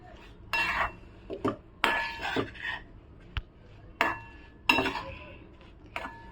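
A spoon scrapes and clinks against a metal pan while a sesame ladoo mixture is stirred after cardamom powder goes in, in a series of sharp, close taps and scrapes separated by short pauses.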